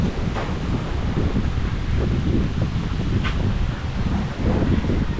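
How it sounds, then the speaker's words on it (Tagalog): Strong wind buffets the microphone in a constant roaring rumble, with gusty surges and faint rustling in the background. "Aba, lakas ng hangin."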